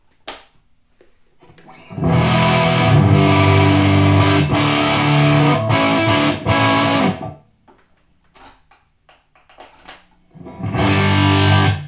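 Electric guitar played through the low-gain input of a Morgan MVP35 amp: strummed chords ringing out with slight grit, a pause with a few muted picks, then another loud chord.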